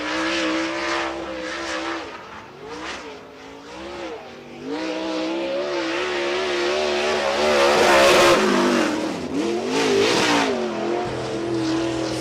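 Late model race car at Cedar County Speedway on a qualifying lap, engine revving hard and rising in pitch through each straight, dropping into corners and surging again, loud and close throughout.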